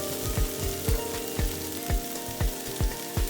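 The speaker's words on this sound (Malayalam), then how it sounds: "ഒരു മീഡിയം സൈസ് തക്കാളി ചെറുതായി നുറുക്കി വെച്ചിരിക്കുന്നതാണ്, അതും കൂടെ ചേർത്ത് ഇളക്കി യോജിപ്പിക്കുക" Diced medium tomato and ginger-garlic masala sizzle steadily in a pan for prawn biryani, with a spatula scraping and stirring in regular strokes about every half second; close and fairly loud, no voices.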